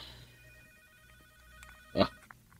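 A cellphone rings in an Ilocano-language radio drama, a thin electronic tone that sounds briefly and faintly and then gives way to a sharp, louder burst near the end, with no one talking.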